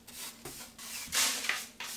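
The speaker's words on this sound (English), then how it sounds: "I'm just gonna grind it" The edge of a piece of stained glass is ground down, giving a close, continuous gritty whir that swells and eases in a few short passes with no talking.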